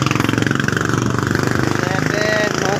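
A motorcycle engine running at a steady idle, loud and close with a fast regular pulse throughout and a voice speaking over it.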